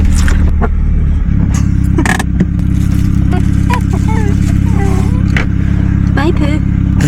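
A car drives along a road in the Scottish Highlands, its engine a loud steady low rumble close to the microphone, with clicks, rattles and brief voice sounds over the top.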